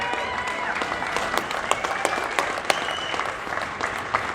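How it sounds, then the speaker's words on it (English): Steady applause from a crowd at an outdoor gun-rights rally at the Rhode Island State House, dense clapping that holds for several seconds with a few sharper claps standing out. "let's give him a round of applause"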